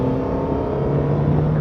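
A Suzuki GSX-S1000GX motorcycle engine running close by with a steady, loud droning hum and a slight rise in pitch toward the end, with no voices.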